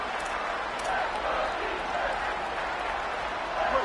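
Stadium crowd at a college football game, a dense, steady roar of many voices and cheering throughout, loud and continuous with no single voice standing out.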